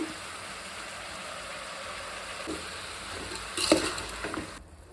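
Tomatoes with salt fry and sizzle in a pan for vangi bath, a steady soft crackle with a brief louder scrape of stirring near the end, no voices.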